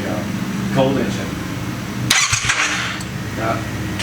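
A Triumph Thruxton R with an X-pipe and Vance & Hines exhaust cranks from cold and catches with a sudden burst, then settles into a rough, uneven idle close to the microphone.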